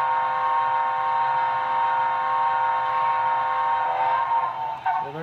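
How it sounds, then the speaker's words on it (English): A long, sustained multi-tone whistle from a Broadway Limited brass model 2-10-4 steam locomotive sounds loudly and steadily, then cuts off near the end with a brief mechanical shift. "So if you hold it a little longer, it's a playable whistle."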